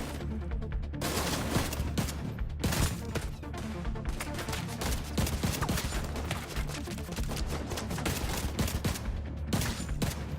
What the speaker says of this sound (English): Is that another gun emplacement?